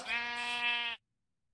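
A sheep in Minecraft gives one loud, close bleat lasting about a second, wavering and nasal, then cutting off abruptly into silence.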